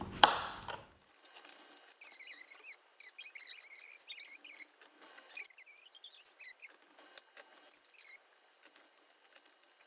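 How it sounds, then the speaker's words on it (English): A knife dices food on a cutting board for a Philly cheesesteak, producing quick, light, irregular taps and clicks in short clusters, close and fairly quiet, with no talking. "next you're gonna turn it this way and you're gonna start dicing it"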